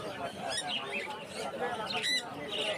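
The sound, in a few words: parrots squawking at Mirpur bird market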